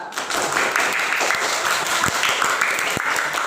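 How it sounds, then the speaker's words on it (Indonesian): A class of primary school pupils claps for a group that has just presented, a steady patter of hand claps filling the room at close range with a few scattered voices underneath. "Beri tepuk tangan untuk kelompok 2."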